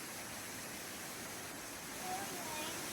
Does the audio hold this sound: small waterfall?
yes